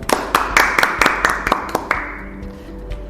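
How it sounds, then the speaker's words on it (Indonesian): Applause for Bapak Sugeng after a briefing, a handful of sharp, separate claps from a small group, loud at first and thinning out as it fades, with murmuring voices behind. "Beri aplaus untuk Bapak Sugeng"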